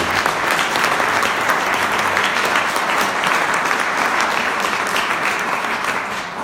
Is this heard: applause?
yes